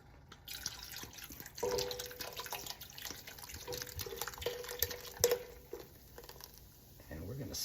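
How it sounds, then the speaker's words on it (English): Guinness poured from a bottle into a pot of Irish lamb stew with flour, a soft liquid gurgle and splash with drips that runs for several seconds and ends in a stirring scrape. "I want to make sure that the flour doesn't clump when I add a bottle of Guinness"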